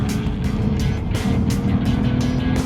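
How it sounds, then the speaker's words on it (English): A Lexus RC F V8 being driven fast, its deep, steady engine roar loud and continuous with rising and falling surges as it pulls hard along a road. "nothing like the sound of a good V8"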